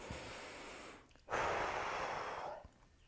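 A person doing a yoga pose takes one slow, close breath: a faint inhale, then a longer, louder exhale of about a second in a quiet room.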